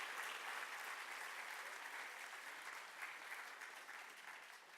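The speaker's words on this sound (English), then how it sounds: "A big round of applause for all of them again." Sustained audience applause at an art prize award ceremony for winners and finalists, a dense steady wash of many hands clapping at moderate distance, slowly tapering toward the end with no voices over it.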